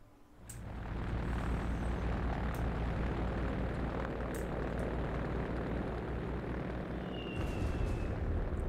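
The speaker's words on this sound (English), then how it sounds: "Strategic bombing run." Aircraft on a strategic bombing run in the video game Company of Heroes 3 roar in after a quiet start, building into a loud, sustained propeller-engine rumble with scattered sharp pops from distant fire.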